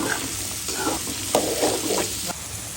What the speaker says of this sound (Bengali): আলুটা সাথে ভেজে নিব